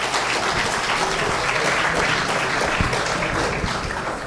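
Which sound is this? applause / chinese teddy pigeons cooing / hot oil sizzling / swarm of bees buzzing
applause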